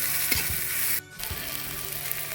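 Onion, green chilli, garlic and ginger frying in a pan for mochar chop, a close steady sizzle broken by a brief dip and a few stirring scrapes, with no talking.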